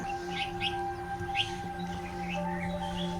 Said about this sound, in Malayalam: കിളികളുടെ നല്ല അടിപൊളി ശബ്ദമുണ്ട്